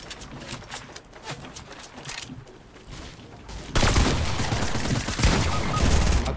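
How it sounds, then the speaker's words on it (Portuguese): Rapid gunfire in Fortnite rattles in bursts, growing louder and denser halfway through as a close, sustained exchange of shots with no talk over it. "tem outros caras atirando na gente"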